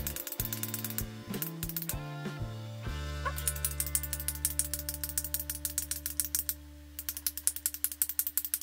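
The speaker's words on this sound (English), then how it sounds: "it's one of them ones that you have to click to get any product out" Click-dispenser makeup product from Primark being clicked to push product out, delivering rapid runs of sharp ratcheting clicks in close bursts, pausing briefly between sets, over a faint low steady hum.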